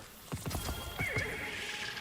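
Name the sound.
neighing and hooves of the mystical Star Horse in a video game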